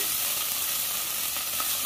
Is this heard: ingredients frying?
yes